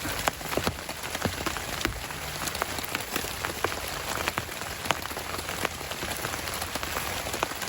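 Morning rain patters steadily on a blue Home Depot tarp over a campsite, a dense close drumming with frequent sharper individual drops tapping on the taut fabric.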